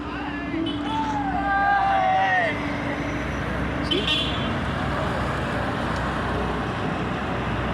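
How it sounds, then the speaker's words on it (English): Vehicles creep slowly along a mist-covered hill road near Coonoor, with a steady roar of engines and traffic, a car horn tooting a few times, and voices talking in the background. "All the vehicles are coming up very slow due to the bad weather condition"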